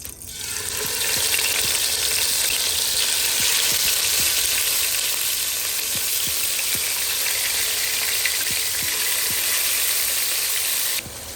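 Pork sears in a hot pan with a loud, steady sizzle and hiss, broken by faint scrapes and taps of stirring, continuous and close for about ten seconds.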